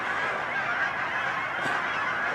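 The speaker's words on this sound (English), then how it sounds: "Look at all those birds." A large flock of geese honks and squawks outdoors, a dense, continuous chorus of overlapping calls at moderate distance.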